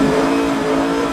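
Loud, close Lamborghini supercar engine held at a high, steady rev with a dense, throaty roar filling the whole moment, no voices.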